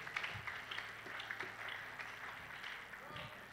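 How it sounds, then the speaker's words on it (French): An audience at a church prayer service applauds, a faint, loose scatter of clapping with a voice speaking over part of it. "Applaudissez."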